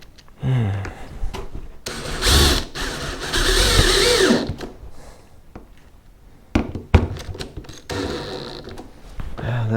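Power drill driving flat-tip screws while rigging a homemade 10 ft styrofoam fishing kayak, with short whirring bursts of driving separated by pauses and handling clatter, close by.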